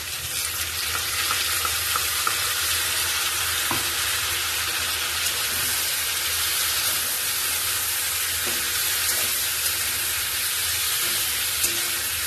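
Ginger, garlic, green chili, cumin and coriander paste fries with cauliflower in a loud, continuous hissing sizzle with faint occasional stirring clicks, close up and with no talking.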